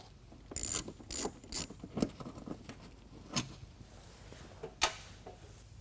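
A hand ratchet works on wheel-well bolts of a 2021 Ford F-150, giving several close bursts of quick clicking with pauses between them, followed by a few isolated sharp clicks and taps.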